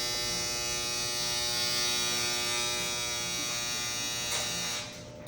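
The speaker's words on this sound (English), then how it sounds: "that the washer or the dryer is about done." A loud, harsh electric buzz from a washer or dryer's end-of-cycle buzzer sounds continuously for about five seconds indoors, then cuts off abruptly.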